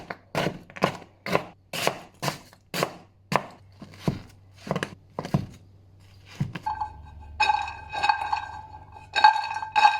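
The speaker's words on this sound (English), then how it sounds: "The cashews I've chopped up." Cashews being chopped with a knife on a board: about a dozen close, sharp rhythmic thunks, then a run of faint light clinks and rattles as the pieces are gathered.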